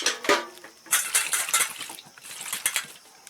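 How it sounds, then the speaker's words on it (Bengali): Tamarind is rinsed in water in a metal bowl for a taro and prawn dish, giving close, irregular clinks, sloshes and rattles in quick bursts, with no talk. "তেঁতুলটা একটু ধুয়ে নিই।"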